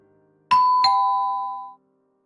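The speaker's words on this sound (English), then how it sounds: "you ring the doorbell." A doorbell at a front door in the video game Tears of Themis gives a clear two-tone ding-dong, two quick strikes with a ringing tone that fades over about a second, heard alone in quiet.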